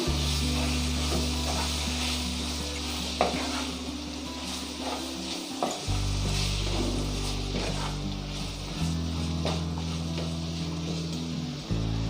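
About 300 grams of chicken for Chettinad pepper chicken sizzles steadily in a hot pan, with a constant frying hiss and occasional scrapes and clacks from stirring, heard up close.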